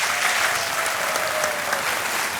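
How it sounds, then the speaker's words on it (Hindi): A studio audience at a quiz show breaks into loud, dense applause that holds steady and close throughout. "एक बार फिर तालियों के साथ अभिनंदन।"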